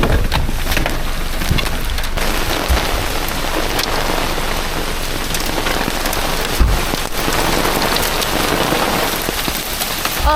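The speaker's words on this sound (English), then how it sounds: "You're gonna get hit by the hail." Hail and heavy rain pelt steadily on the Suwannee River in Florida during a storm, a dense, continuous patter of close impacts with a few sharper knocks, loud and unbroken, with no talking.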